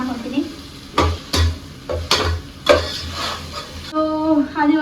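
Mint and coriander are stirred into a cooking pan while making white chicken pulav, giving a series of distinct scraping strokes against the pan over a light sizzle, with a person talking briefly between strokes.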